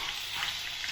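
Scallop searing in a hot frying pan, a steady close sizzle and crackle that holds evenly throughout with no talking.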